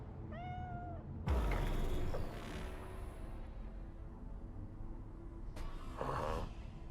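A cat in the video game Cyberpunk meows, with a clear rising-falling meow at the start, then a burst of clatter and rustling noise, and a second fainter sound near the end.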